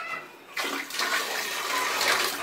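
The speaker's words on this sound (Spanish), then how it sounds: "Esa agua la ocupo para echársela al baño." A small bucket of water is poured into a toilet bowl to flush it in a home without running water, a sudden loud splash followed by a steady gushing swirl.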